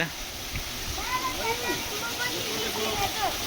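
A waterfall in Roblox gives a constant, even rushing hiss of falling water that fills the whole clip, while voices talk quietly over the top.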